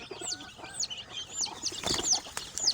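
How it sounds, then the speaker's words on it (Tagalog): A grandmother's chicks and chickens are caught, with repeated high chirps and peeps from the chicks, some clucking and a burst of wing flapping midway, close and without talk. "Maraming sisiw ang Lola dito."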